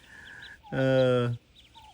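A single loud, nasal quack-like call from a farmyard bird with several ducklings and a turkey nearby, preceded and followed by faint high peeping chirps.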